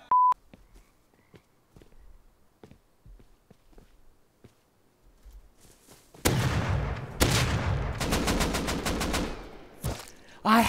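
Rapid automatic fire from an AK rifle in a video game, a loud sustained burst of shots running through the second half after quiet stretches broken by a few faint clicks and steps.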